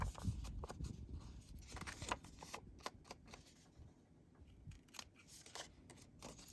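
Scissors snip through fabric while trimming a double curtain, giving a series of quiet, crisp cuts and clicks close by in a hushed room.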